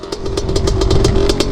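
A motorcycle engine revving hard under acceleration, loud and close, with a rapid rhythmic pulsing exhaust note throughout the short burst.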